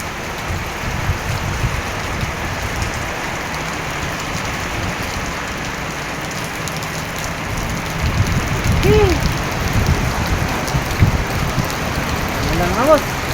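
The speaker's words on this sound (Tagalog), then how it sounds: "bumuhos na talaga mga boss yung ulan" Heavy rain pouring down outdoors, a steady broad hiss of downpour that swells louder toward the end, with birds chirping faintly and occasional voices in the background.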